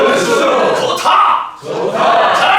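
An audience at a Korean pansori performance shouts the chuimsae call "eolssu" together, two loud crowd shouts in a row, each a sustained collective cry.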